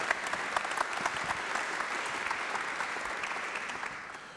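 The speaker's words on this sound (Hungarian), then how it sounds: "Ilyenkor egy pici taps egyébként mindig segít a színpadra érkezést illetően." Audience applause as a speaker arrives on stage at a summer literary gala, steady crisp clapping from a moderate crowd, fairly distant and easing off at the end.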